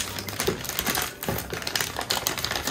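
A box of plastic sea animal figures is opened, giving dense, close rustling and clicking as packaging is handled, continuous and fairly loud with no talking.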